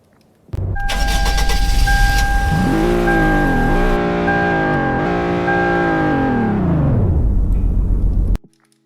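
A car engine in a Roblox driving game revs up steadily and holds a loud droning roar with a few gear-like shifts in pitch, then cuts off abruptly.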